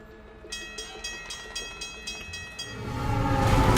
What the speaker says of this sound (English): Oh, somebody got run over by a train.